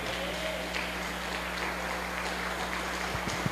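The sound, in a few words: church congregation applauding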